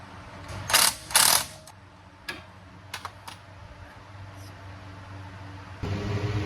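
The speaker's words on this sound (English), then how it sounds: "Using a 14mm socket and a 19mm wrench as well." A ratchet socket and wrench work on the brake caliper bolts of a Honda Passport, giving two loud bursts of rapid ratchet clicking followed by scattered sharp metallic taps and clinks, close up and with no talking.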